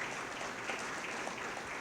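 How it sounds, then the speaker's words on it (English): Audience applause at a community breakfast, a continuous even wash of many people clapping, fairly faint and distant-sounding, with no talk over it. "Give him a round of applause"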